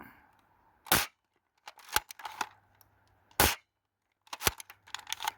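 A pro foam dart blaster with a changed clip magazine fires Quick Dart, Worker and Dart Zone darts, six sharp snapping shots spaced across the stretch, each followed by faint rattling and handling noise, close and otherwise quiet.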